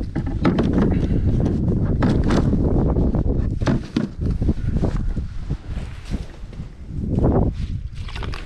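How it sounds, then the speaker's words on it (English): Strong wind on a frozen lake during ice fishing in northern Wisconsin buffets the microphone in loud, uneven gusts and rumbling blasts that rise and fall throughout. "Super windy out."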